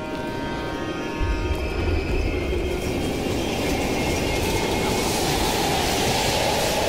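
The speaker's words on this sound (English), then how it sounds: "We can use a train to slip past." Train passing in the video game Call of Duty Black Ops Cold War, a steady low rumble with rail clatter that swells after the first second and holds loud to the end, with no talk.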